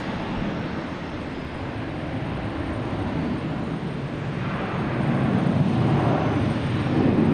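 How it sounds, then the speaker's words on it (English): An American Airlines jet takes off at Boston's Logan Airport, a steady broadband engine roar heard from a distance that swells louder toward the end, with no voices. "We have American taking off."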